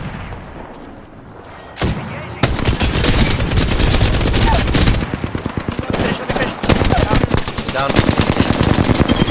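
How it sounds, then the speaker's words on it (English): Rapid automatic gunfire from Apex Legends, loud bursts starting after a quieter opening and continuing in dense volleys with booming impacts, while players shout over the shooting. "They were shooting back."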